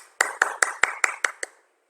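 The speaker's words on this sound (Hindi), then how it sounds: "तालियां बजती रहनी चाहिए।" Seven evenly spaced sharp claps sound in a steady rhythm, fairly close and crisp with a slight ringing tone, then stop, leaving silence.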